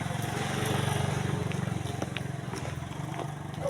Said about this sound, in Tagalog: Oh, tabi, tabi, tabi. May motor.